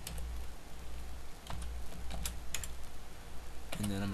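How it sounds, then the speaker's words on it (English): Quick, close keystrokes as a password is typed on a computer keyboard, a light irregular clatter of taps running for several seconds before a voice begins. "Now I'm gonna type in my new password."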